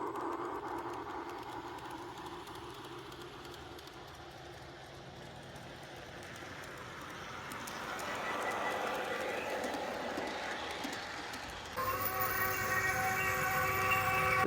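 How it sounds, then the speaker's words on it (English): A model train runs along its track with a soft, steady rolling rumble that grows a little louder, then a sudden shift to brighter mechanical noise. "We run trains fast on this railroad."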